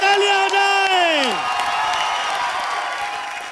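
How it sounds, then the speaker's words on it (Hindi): Applause from a comedy show audience on the Comedy Circus stage, steady clapping and crowd noise throughout, with a voice holding a long falling note over the start. "जोरदार तालियां हो जाए।"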